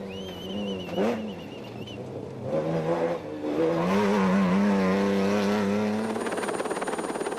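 A Toyota Hilux rally truck races hard in the South African rally championship, its engine revving and climbing through gears, growing louder and nearer before holding a steady high drone.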